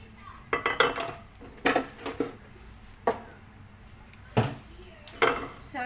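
Browned beef scraped out of a pan over a medium flame, with sharp metallic clinks and scrapes of a utensil against cookware in separate bursts over a faint background sizzle.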